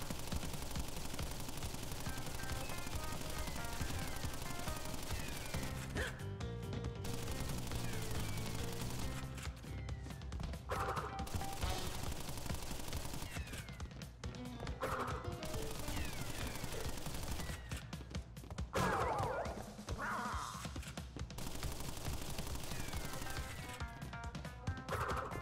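Boss shooting at the player in the Crash Bandicoot video game, dense rapid gunfire bursts and crashing impacts over loud continuous game music, sustained and close throughout.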